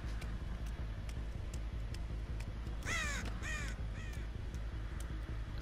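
Crows in a video game give a short burst of harsh caws, two or three close together and then one more, over a steady loud rumbling background.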